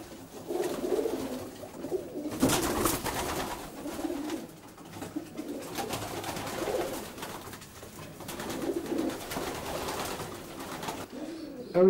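Racing pigeons in a stock loft on straw litter coo in soft, repeated low throaty calls, several birds overlapping at close range in a quiet indoor space.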